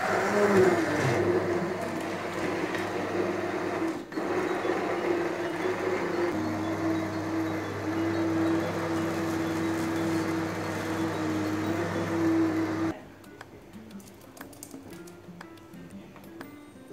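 Electric blender whirring steadily through a Uşak-style flour tarhana mixture made with yogurt cream, a loud continuous motor drone that holds for about thirteen seconds before cutting off, leaving quiet room sound.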